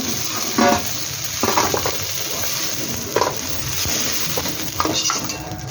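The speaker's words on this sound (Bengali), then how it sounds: "ট্যাংরা মাছটাকে ভেজে উঠিয়ে নেব" Tengra catfish (small catfish) frying in hot oil in a pan, a steady dense sizzle running throughout, with a few brief scraping stirs and light utensil clinks against the pan; no talking.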